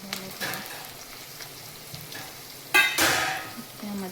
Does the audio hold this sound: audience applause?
no